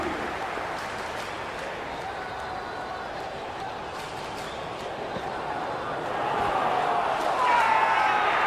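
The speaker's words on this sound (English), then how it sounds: "The crowd is electric right now." Stadium crowd in the cricket video game Cricket 26 during an India vs South Africa ODI, a steady broadband roar of cheering that swells louder near the end, with a commentator's voice faintly underneath.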